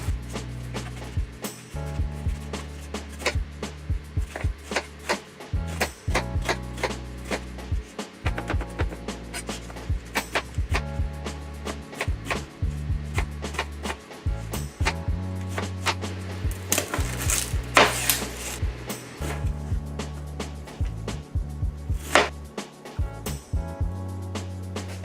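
Knife chopping yellow and red onions into a fine dice on a wooden cutting board, a steady run of sharp, close taps with brief pauses between bursts.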